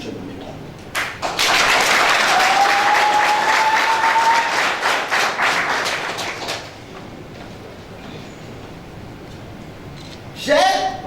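Audience applauding at a political party congress, loud dense clapping that swells and holds for several seconds before thinning out and fading, with a brief voice near the end.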